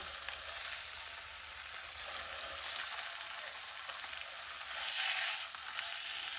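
A butterfly pork chop sizzles steadily in a pan just after being flipped, a continuous bright crackle and hiss with a slight swell near the end, close and fairly quiet, no voices.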